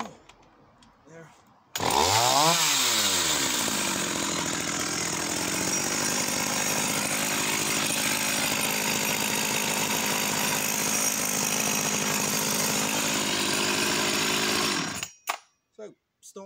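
A vintage Swedish Husqvarna 444SE chainsaw fires up after a pull, revs sharply, then holds a loud, steady, raspy two-stroke drone for about thirteen seconds before cutting off abruptly.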